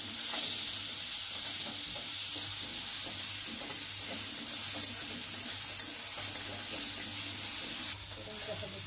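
Chopped onion sautés in a pan over a low flame, giving a soft, continuous sizzle with a few faint stirring scrapes and a quiet kitchen background.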